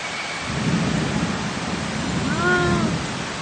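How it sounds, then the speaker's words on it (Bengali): Heavy rain pours down in Dhaka during a storm in a steady, dense hiss that never lets up, with a brief faint animal-like call rising partway through. "দেখো কত বৃষ্টি পড়তেছে গাইস"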